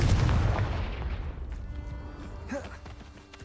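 A Confringo blasting spell bursts in the Hogwarts Legacy game, a loud booming blast at the start that rumbles and fades into a lower, crackling tail.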